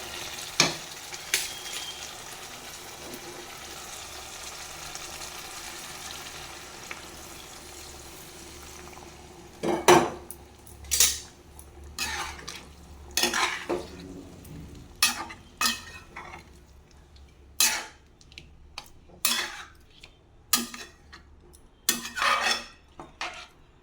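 Hot water hits a pan of oily sautéed masala and sizzles, followed by a metal spoon stirring and scraping the pan in repeated short strokes, close and clear.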